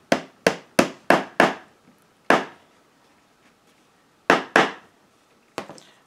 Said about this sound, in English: before you start hammering.